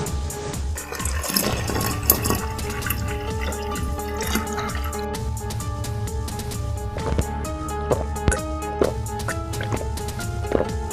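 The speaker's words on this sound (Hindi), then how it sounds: "झुमरू बाल्टी से कुएं का पानी खींचता है।" Water is drawn from a well with a bucket, giving splashing, sloshing and dripping sounds that come and go with a steady low background hum over several seconds.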